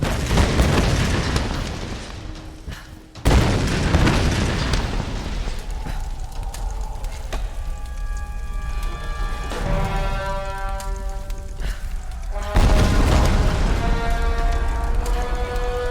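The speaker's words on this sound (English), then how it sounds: "sometimes you'll get staggered here by an explosion, sometimes you won't" Explosions in Tomb Raider (2013) during the Shantytown helicopter section: heavy booming blasts and rumbling fire at the start and again near the end, with crackling debris and a tonal ringing between, loud and with no talk.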